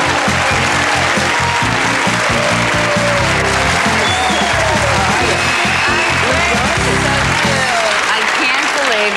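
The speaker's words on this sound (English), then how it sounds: "I'd like everyone to give a big round of applause" Studio audience applauding on a 1995 psychic television show, a dense, loud wash of clapping that continues throughout, with a host's voice speaking over it at times.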